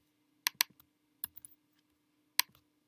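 Python code is typed on a computer keyboard in a few quick, crisp clusters of keystrokes separated by short pauses, close and quiet over a faint electrical hum.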